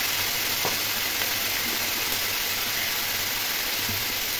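Thin strips of potato and bitter gourd frying in oil with salt and turmeric, giving a steady, loud, unbroken sizzling hiss from start to finish.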